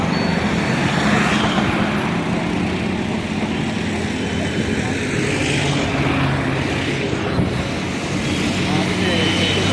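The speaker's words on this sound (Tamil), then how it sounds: "எல்லா பஸ்ஸெல்லாம் போகுது பாருங்க." Heavy road traffic of buses and lorries rumbles past continuously on the bypass road by the Cauvery river road bridge in Trichy, loud and close, with a broad engine roar and wind-like wash that never drops away.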